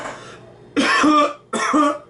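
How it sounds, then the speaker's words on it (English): Two harsh, raspy coughs close up, spaced apart, after a short quieter breathy sound, with nothing else around them. "I'm coughing."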